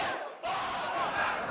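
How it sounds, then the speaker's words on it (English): An angry crowd mobbing a man near Tahrir Square during the Egyptian uprising, a dense roar of shouting voices that swells in suddenly after a brief hush and stays loud and close. "Suddenly, he is mobbed by an angry crowd"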